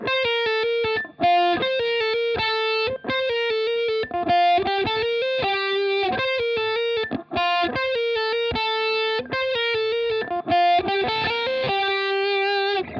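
An electric guitar plays a quick, repeating high lead phrase with a bright, slightly distorted tone, notes picked in a steady rhythm.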